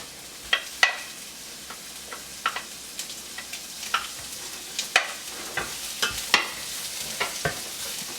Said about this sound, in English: You want to keep it stirring just to make sure the oil is being coated completely through all of the onion mixture